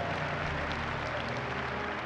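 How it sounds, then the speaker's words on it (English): Church congregation at a Sunday service clapping hands in praise, a steady even patter of applause, moderately faint and continuous for a couple of seconds. "give those who've come down here a big hand clap for praise"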